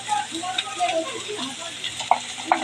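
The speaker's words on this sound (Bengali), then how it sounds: "আর দেব লবণ দিয়ে আরো কিছুক্ষণ এটা কষিয়ে নেব" Mung dal with mutton fat and turmeric sizzles steadily in a pan, close and constant, with a couple of sharp scraping clicks from stirring.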